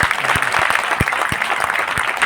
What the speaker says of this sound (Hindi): आप लोग अपने लिए एक बार जोरदार ताली बजाइए अपने लिए